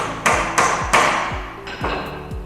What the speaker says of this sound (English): I'll start that by giving it a bit of a knock with a hammer.